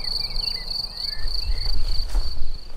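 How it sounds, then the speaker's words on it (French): Crickets chirp steadily in a countryside setting near a village, a continuous high-pitched trill running throughout, with faint low rumbling background noise and no talking. "écoutons un peu les grillons"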